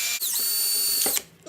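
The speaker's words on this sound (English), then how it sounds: "Try and get it as centered as you can and then just drill into" A power drill whines at high speed while boring a hole through a plastic lid, a close, loud sustained buzz that briefly stutters, then runs on and winds down.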